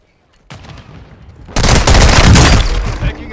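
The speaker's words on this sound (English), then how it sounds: "Taking effective fire." Dense automatic gunfire and explosions in the video game Call of Duty Modern Warfare II Warzone on Ashika Island, starting with scattered bursts and then swelling into a loud, continuous barrage.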